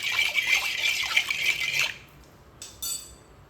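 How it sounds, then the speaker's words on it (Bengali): Water poured into a pot while making raw mango candy, a close, steady pouring stream that stops abruptly partway through, followed by a brief clink. "দিয়ে দিচ্ছি বেশ কিছুটা জল।"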